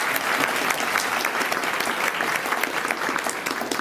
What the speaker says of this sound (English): Let's give Sonia a round of applause since I missed her